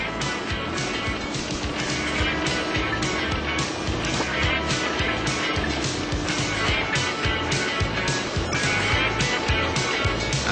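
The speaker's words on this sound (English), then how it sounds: "And now we're driving alongside it." A four-wheel-drive vehicle drives alongside the last northern sand dune on the Canning Stock Route, its engine and tyres giving a continuous rough rumble with bumpy rattling throughout.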